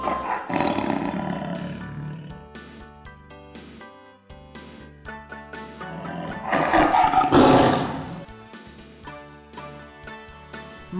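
A tiger lets out two loud roaring bouts, an early one and a stronger, longer one later, set against a chiming children's music backing.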